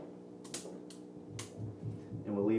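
Bonsai shears snip through a chunk of new growth at the tip of a tree, giving a few sharp, close clicks spaced apart against a quiet room hum.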